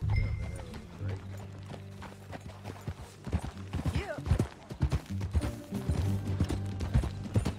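Horse hooves clip-clopping on a ranch in Red Dead Redemption 2, an uneven run of clattering hoof strikes that grows busier and louder over low background game ambience.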